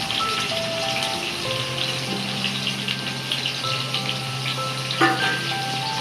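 Sliced onion frying in a pan for chicken fry piece biryani, a steady sizzle under faint background tones and a brief clatter near the end.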